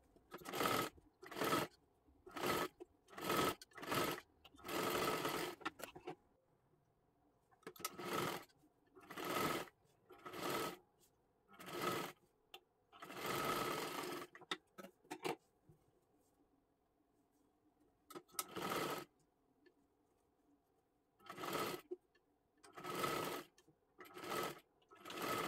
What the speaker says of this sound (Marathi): आता ह्याच्यावरती आपल्याला डबल शिलाई मारून घ्यायची आहे.